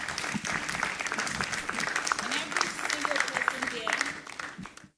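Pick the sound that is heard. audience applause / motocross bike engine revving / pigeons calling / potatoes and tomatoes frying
audience applause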